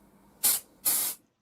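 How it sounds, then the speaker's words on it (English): Two short bursts of satin black spray paint from an aerosol hobby can onto prop pulse rifle gun parts, each a loud, close hiss lasting about a third of a second with a brief pause between. "I'm going to be spraying the main gun parts with this satin black spray paint"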